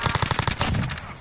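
Rapid bursts of launcher fire in a video game, a quick string of sharp, evenly spaced shots followed by a heavier boom that fades out.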